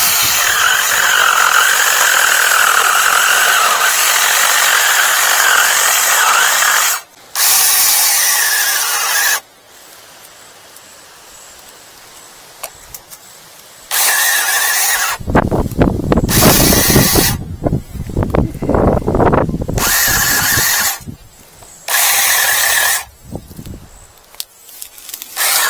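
A SEYVUM mini cordless 6-inch one-hand chainsaw, 20V battery, cuts a small pine tree in loud bursts: a high whirring chain buzz, abrupt stops, then rougher cutting with crackling wood toward the end.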